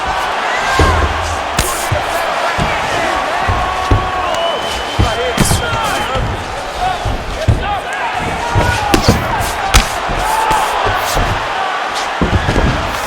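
Ground-and-pound punches in UFC 4 landing as repeated sharp thuds and slaps at an irregular pace, over a constant roaring arena crowd while a commentator talks throughout.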